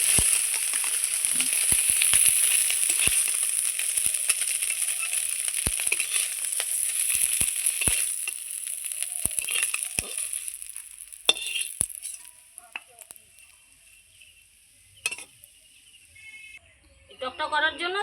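Maya fish frying in hot oil in a pan, with a steady bright sizzle and occasional spatula scrapes and taps, fading near the end as the fish is lifted out, while a voice talks over it.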